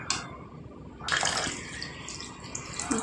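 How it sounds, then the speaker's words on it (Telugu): Half a glass of water splashes into a pan of chicken curry, a brief pouring rush that starts suddenly and fades into light sizzling and bubbling. "ఒక 1/2 గ్లాసు నీళ్ళు వేసుకుందాం"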